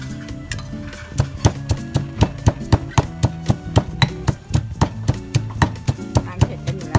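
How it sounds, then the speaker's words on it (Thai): Rapid, steady pounding of peanut chili paste with a pestle in a mortar at a riverside Thai restaurant kitchen, sharp close thuds repeating in a brisk rhythm over a low background hum. "โขลกเข้าไป"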